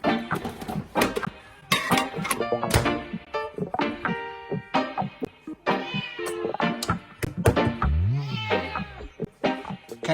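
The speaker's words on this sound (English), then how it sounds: "There's Grandpa teasing the cat again." A pet cat meows repeatedly while someone teases it at home, its insistent, drawn-out cries rising and falling over scattered thumps and busy background noise, close and loud throughout.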